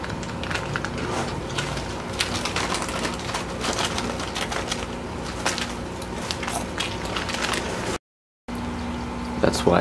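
Indoors, a pet pigeon or dove coos in low, soft repeated calls through nearly ten seconds of busy background noise, with a brief gap of silence near the end.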